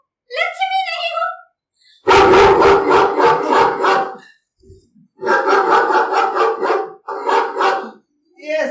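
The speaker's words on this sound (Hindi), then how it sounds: "ये साधु बाबू को कुत्ते की रुलाई एकदम नापसंद है।" Dog crying and barking as a sound effect in a stage play: loud bursts of whimpering howls and rapid yelps in several separate runs, with pauses between them and a voice-like wail near the start.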